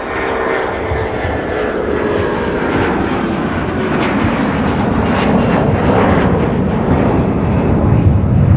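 An Airbus airliner at Minneapolis–St. Paul airport on a winter day with deicing underway, giving a loud, steady jet roar that holds unbroken from start to finish, with no talking.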